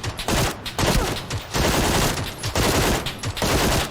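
Rapid bursts of automatic gunfire from a PUBG solos match, dense and loud, with short gaps between volleys across the whole stretch.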